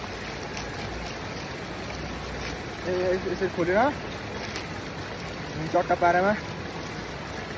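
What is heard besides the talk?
stream flowing beside a picnic spot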